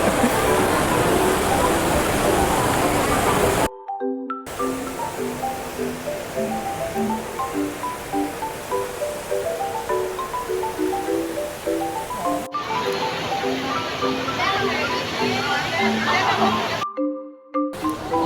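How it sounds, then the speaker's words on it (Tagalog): A famous indoor waterfall inside a building rushes as a loud, steady broadband wash, broken by two brief cuts. Melodic tones from music or chimes play over it. "Ang famous na falls sa loob ng building."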